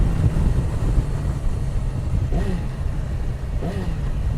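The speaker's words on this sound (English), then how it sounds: "I'm rev matching like nothing." A 2018 Yamaha R6 sport motorcycle engine runs steadily and loudly up close, with brief rising revs blipped twice during rev-matched downshifts, no talking.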